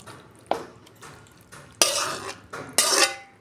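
Okra and potato curry scraped and poured out of a pan, heard as a few sharp metallic knocks of a spoon against the pan, each followed by a short scraping slide, close and distinct.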